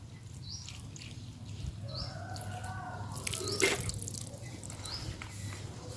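Water drips and trickles onto potted vegetable plants, a soft close spattering with a louder splash near the middle, low background hum underneath.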